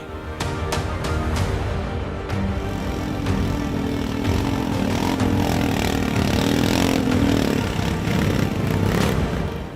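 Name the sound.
modified motorcycle engine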